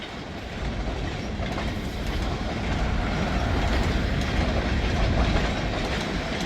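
A long freight train made up of many center beam cars rolls past with a steady, loud clickety-clack of wheels on rail joints, a continuous rumble with no voices.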